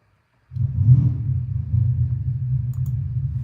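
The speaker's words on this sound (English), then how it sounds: "And there we go. The neighbor's car just fired up." A neighbor's car engine fires up after a brief silence, then settles into a deep, steady rumble that stays loud and close to the end.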